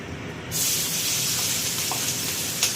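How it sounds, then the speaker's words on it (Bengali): Prawns dropped into hot oil for frying, a sudden loud broadband sizzle that bursts in after a brief quiet moment and then holds steady and close, with a few small crackles near the end. "চলো আমি আগে মাছগুলোকে ভেজে নিই।"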